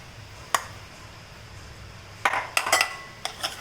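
A utensil mixes mayonnaise in a large bowl, making a few sharp metallic clinks and scrapes in scattered clusters against a quiet background.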